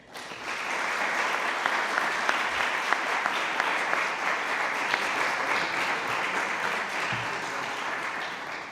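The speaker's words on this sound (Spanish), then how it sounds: "les voy a pedir un aplauso de bienvenida" Sustained audience applause welcoming panelists at a Biblioteca Nacional panel session of a centenary cycle for playwright Antonio Buero Vallejo, steady dense clapping filling the hall for about nine seconds with no talk.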